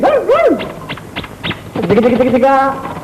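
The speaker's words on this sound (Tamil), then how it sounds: "இத பத்தியா நாய்க்குட்டி" A puppy yips and whimpers in a few short high-pitched bursts, heard close up as people talk around it in a Tamil family film scene.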